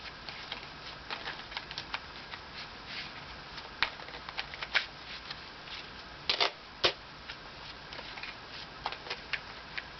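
Tarot cards being shuffled during a reading: soft, close papery riffles and patters in quick irregular bursts, with a few sharper snaps standing out, and no voices.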